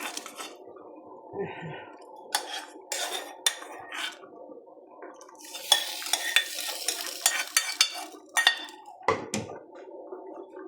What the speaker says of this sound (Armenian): արդեն լցնում ենք մեր տոմատը, սոխառածի հետ միասին